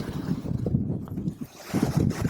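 Strong wind buffeting the microphone on a beach, a rough, loud rumbling gust that rises and falls unevenly throughout.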